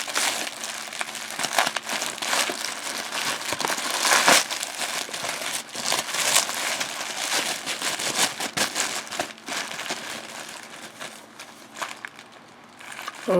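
A knife cutting open the packaging of a fountain pen box, giving a close, continuous crinkling and rustling of crushed wrapping with small scraping bursts throughout and no voices.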